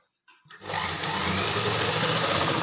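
A sewing machine stitching elastic onto fabric for palazzo pants starts up after a brief pause and then runs loud and steady at close range with a dense, even whir, without talk.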